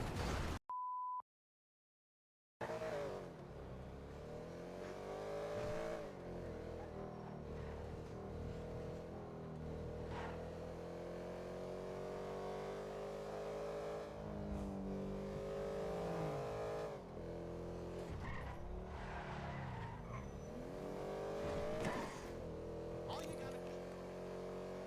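A Benefactor Schwartzer, a Mercedes-Benz C63 AMG-style sports car in GTA V, drives with a steady engine drone that rises and falls as it revs, continuing for most of the stretch after a brief tone and a silent gap.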